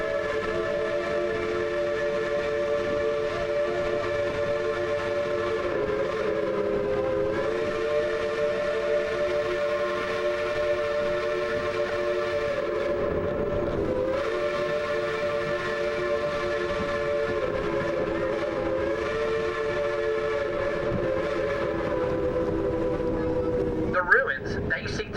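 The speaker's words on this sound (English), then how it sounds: "We're going to blow the whistle in just a second." A steam train whistle at Cass sounds in one long sustained blast with steady harmonic tones, dipping briefly midway, loud and close over the train's background rumble.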